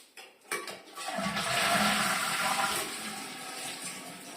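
A toilet freshly hooked up to its water supply in a house in the south flushes close by, a rushing surge of water that rises sharply and keeps swirling and refilling steadily to the end, with no talking.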